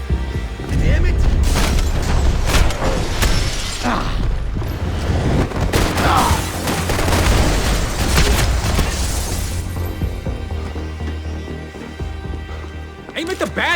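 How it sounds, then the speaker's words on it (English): Shootout in the Max Payne 3 video game: dense bursts of gunfire and heavy booms crackle near and loud across most of the stretch, with shouting voices mixed in before the shots thin out. "Shoot! Somebody kill him! You keep shooting!"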